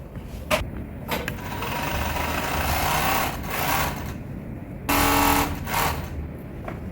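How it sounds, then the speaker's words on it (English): An overlock sewing machine stitches the pocket of a hoodie in a few rapid whirring bursts, loud and close, with short pauses between runs and no voices. "So I need to overlock this part."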